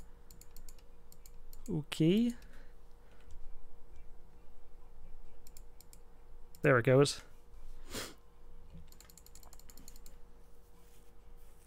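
Mouse clicks while playing Dragon City come as faint, quick clusters of small taps, quiet and close, in between short bits of a person talking.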